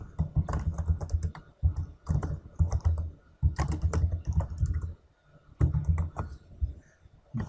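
Quick, close clicks of someone typing text into SolidWorks on a computer keyboard, coming in uneven bursts with short pauses and no voices.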